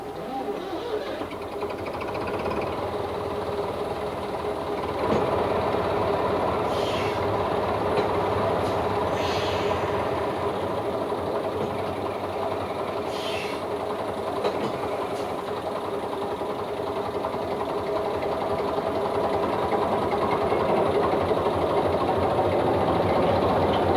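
Moel Hebog, a 1955 Hunslet engine on the Festiniog Railway, running with a steady mechanical drone and rhythmic clatter throughout, continuous and fairly close.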